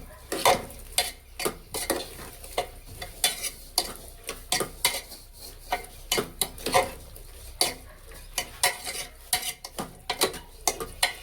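Food is stirred and mixed with salt in a pot in a village kitchen, with rhythmic scraping and clinking strokes repeating steadily for about eleven seconds, close and clear with no talk.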